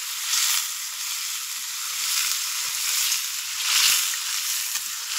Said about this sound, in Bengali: এই যে জাস্ট মানে তেলে এগুলোকে ভেজে নিচ্ছি।